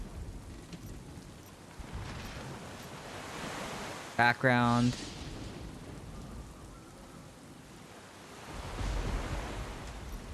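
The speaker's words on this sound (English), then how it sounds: "It's like this perpetual like sound. Like a storm." Steady storm-like idle ambience from the Diablo Immortal video game, a continuous rain-and-surf wash that runs throughout, briefly interrupted by a short burst of a voice near the middle.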